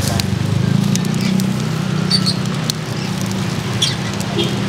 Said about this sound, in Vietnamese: Tiếng lửa cháy.